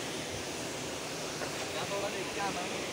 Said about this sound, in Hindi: अभी झरने पे हम नीचे जा रहे हैं।